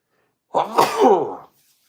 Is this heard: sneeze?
yes